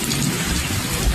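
Heavy evening rain pours down with wind in Bhubaneswar, a dense continuous roar with a low thunder rumble underneath, brief and loud.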